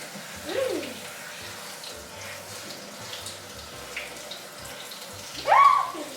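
Running water from a tap rinses a child's hair at home, a soft steady trickle with two brief louder splashes, a child's small vocal sounds faintly audible beneath.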